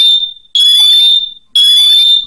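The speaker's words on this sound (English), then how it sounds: "Oh, that's the fire alarm." Smoke alarm set off by smoke from candle-making, sounding loud, piercing beeps in three long bursts with short gaps, alone with no talk.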